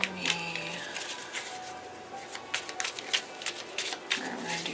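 Tarot cards are shuffled by hand in a series of quick riffling bursts and soft slaps, faint and close, with brief pauses between the shuffles.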